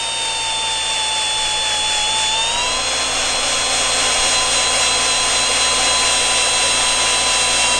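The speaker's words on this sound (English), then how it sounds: "I'm going to try to get Brian's ski all sanded up" Power sander working over a jet ski hull, a loud continuous high whine with steady pitch that rises slightly partway through, close and unbroken with no talk.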